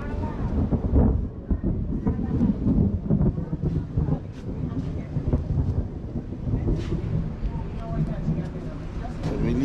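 Rumbling thunder rolls beneath steady rain, with a voice talking intermittently over the stormy wash of sound.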